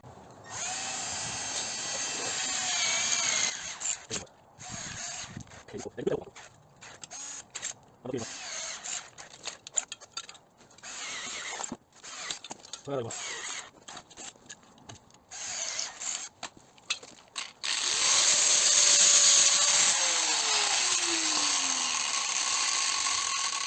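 A power drill boring holes in car body metal, with repeated whining bursts starting and stopping and a longer sustained run near the end, close and fairly loud.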